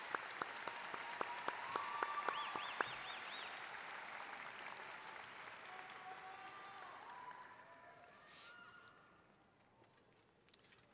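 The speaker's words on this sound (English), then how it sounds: "Let's give our musicians another round of applause" Graduation-ceremony crowd applauding the musicians at a high school commencement, a dense sustained clapping that gradually thins and fades toward the end, with faint whistles near the start.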